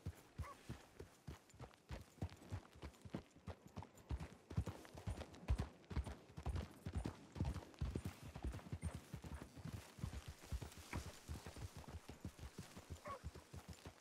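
Steady clip-clopping horse hooves in a video game, in a quick, regular rhythm, fairly close and continuous over soft background ambience.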